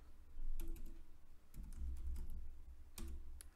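Typing on a computer keyboard in short bursts of rapid key clicks separated by brief pauses, close and clear, with no speech.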